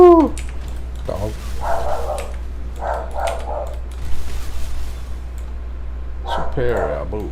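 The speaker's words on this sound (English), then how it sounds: "Dog." A dog barks a few short times close by between moments of someone talking, over a constant low hum in a room.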